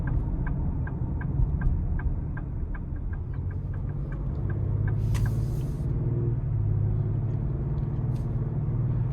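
A 2026 Ford Explorer ST cruises in normal drive mode, a steady low engine and road rumble heard from inside the cabin, with faint regular ticking clicks over it and no talking.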